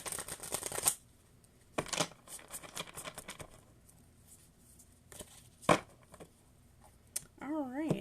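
Tarot cards shuffled by hand in short, soft bursts of riffling and flicking, spaced by quiet gaps, with a brief rising tone near the end.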